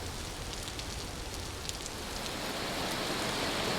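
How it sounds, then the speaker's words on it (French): Hail pelting down in the survival game Vintage Story, a steady dense hiss of pattering impacts that holds loud and unbroken throughout, with no voices. "Oh, c'est de la grêle."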